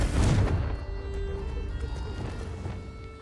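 Confringo fire spell cast in Hogwarts Legacy: a heavy booming blast at the start, then a sustained rumbling, crackling tail that slowly fades.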